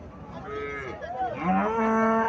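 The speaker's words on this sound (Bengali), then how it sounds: "এখানে গাভী দেখা যাইতেছে, বাছুরটা দামড়ি বাছুর।" An Indian dairy cow at a cattle sale lets out a close, loud, drawn-out moo that rises and bends in pitch over about two seconds.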